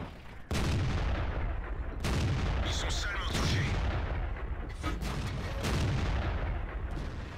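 Tank cannon fire and explosions in the World of Tanks video game, heavy booming blasts at roughly one- to two-second intervals over a dense, rumbling battle backdrop, with talk faintly underneath.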